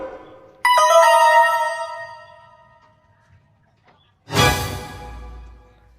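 A mobile phone ringtone starts with a bright, chiming burst of tones that fade slowly, followed by a louder rustling clatter nearby.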